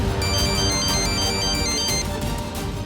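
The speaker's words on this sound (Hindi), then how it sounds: "अरे फिर से फोन आ गया।" A phone ringtone plays continuously and loud, a bright electronic melody with steady pulsing tones and no voices over it, in a domestic setting.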